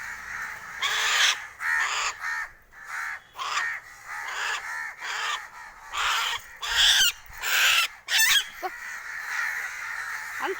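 Crows cawing repeatedly outdoors, loud harsh calls in irregular bursts close by, with brief gaps between caws and no talk.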